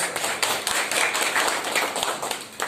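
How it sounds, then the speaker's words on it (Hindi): An audience at a business seminar claps together in a lively, moderately dense burst, with individual sharp claps standing out against the steady patter. "ताली बजाइए इस बात पे"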